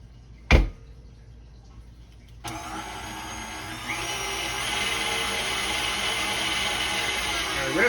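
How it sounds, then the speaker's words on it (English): An electric mixer starts up and whirs steadily, folding ingredients into a smoked salmon dip; a sharp knock comes first, then the motor hums loud and continuous to the end. "the rest of the stuff we just gonna kind of fold in here with the mixer"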